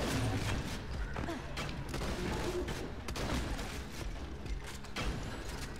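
Rapid bursts of gunfire fill the video game Borderlands 2, a dense run of repeated shots and thuds continuing throughout with faint game sounds underneath.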